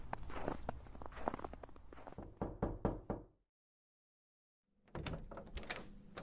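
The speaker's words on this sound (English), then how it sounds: "Then I got out of my car, walked to the front door," Firm knocks on a front door, a quick run of sharp, close raps that stops abruptly, then a short silence before a few more knocking sounds follow.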